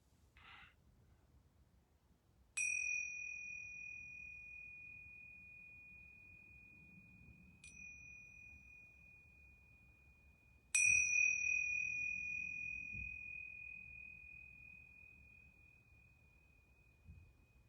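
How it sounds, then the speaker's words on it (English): Yoga bells ring three times in a quiet room, each a clear, pure ringing tone that lingers and slowly fades, the first and third strikes louder than the faint middle one. "I'm going to ring these yoga bells 3 times."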